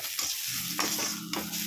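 Food frying in a pan in a home kitchen during the making of a ridge gourd, tomato and potato mash, with a steady sizzle broken by three scraping stir strokes, close and with no talking.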